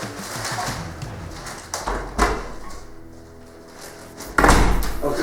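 A door is opened and then shut, with a sharp knock-like clack midway and a heavier thud near the end, over a faint background of cooing pigeons and indistinct room sounds.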